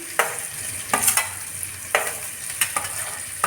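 Onion and ginger fry in a pan for a millet upma, a steady sizzle broken by several sharp stirring scrapes and clinks of a spoon at irregular intervals, close and fairly loud with no talking.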